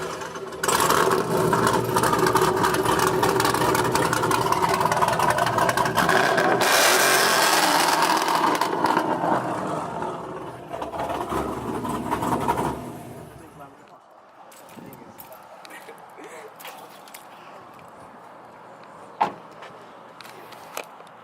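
Close, loud engine roar from a car with a straight-pipe exhaust, muffler deletes and a cam, holding a steady raspy drone for several seconds before dropping away to idle and quieter sounds.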